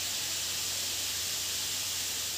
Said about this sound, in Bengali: আমাদের ফুলকপি ভাজা হচ্ছে